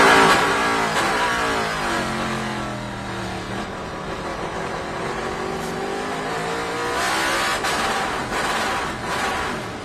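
Onboard a Trans Am Series race car on the track at Sonoma, the engine snarls loud and close as it revs up and down through gear changes, with the pitch rising and falling under acceleration and braking.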